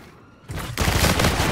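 A bombardment strike in Infinite Warfare multiplayer. After a quieter start, dense, loud gunfire and explosive rumble build up in two stages and keep going without a break.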